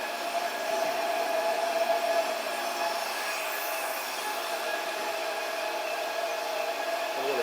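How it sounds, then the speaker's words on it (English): Fluid rushes through a newly opened process valve as equipment moves from sterilization to process conditions, making a steady loud hiss of broadband flow noise that holds constant throughout. "as I open that valve, it begin to flow"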